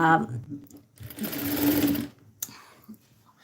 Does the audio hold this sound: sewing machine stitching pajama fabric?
yes